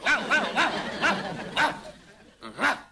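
A person imitates a dog with a run of loud, rhythmic woofing barks in quick succession, close and alone.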